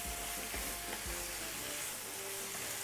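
A Jamaican vegetable salt fish dish stirred in a pan: a steady, fairly quiet sizzle with a few soft scraping strokes, close by and without talk.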